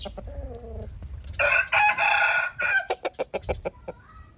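A Thai native red rooster nearby crows loudly in one long call, then follows with a quick series of short clucks, with quieter clucking just before the crow.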